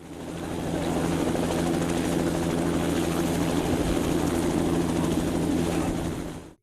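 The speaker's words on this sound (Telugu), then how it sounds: "ఉదయం తొమ్మిది గంటల నుంచి సాయంత్రం నాలుగున్నర వరకు హెలికాప్టర్లో జాయ్ రైడ్ చేయవచ్చు" A tourist joy-ride helicopter over Hyderabad drones with a loud, steady rotor and engine roar that fades in, holds constant and cuts off at the end.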